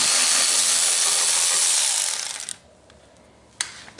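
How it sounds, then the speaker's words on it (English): A small Milwaukee power driver spins out 10mm bolts on the front brakes of a Honda Rancher ATV, a loud close whine that runs steadily and then cuts off, followed by a brief clack. "There's two 10mm bolts in there, and you got a ratchet on an extension. I like my little Milwaukee driver,"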